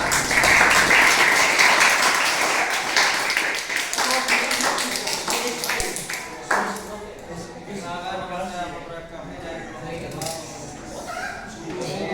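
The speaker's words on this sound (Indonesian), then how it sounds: "berikan tepuk tangan buat perwakilan kelompok depan" Classroom applause for group representatives heading to the front, a dense burst of clapping that is loudest at first and then thins out as voices talk over it.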